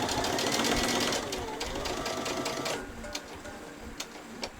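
A sewing machine topstitches along a seam of a child's dress, a close rapid whirring chatter that slows and stops partway, followed by a few isolated clicks.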